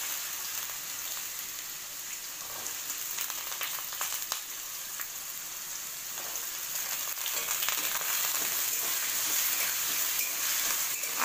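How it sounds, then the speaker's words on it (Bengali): Potatoes frying in a pan with garlic and chillies for a red leafy greens curry, stirred now and then: a dense, even sizzle like steady rain that swells slightly near the end, close, with faint scraping. "আলুগুলোকেও হালকা ভাজা করে নেবো।"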